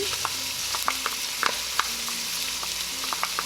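Peas lightly frying in a pot for a peas-in-sauce dish: a soft, steady sizzle with scattered light taps and scrapes of stirring, fairly quiet and free of talk.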